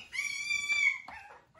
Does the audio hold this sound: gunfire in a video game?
no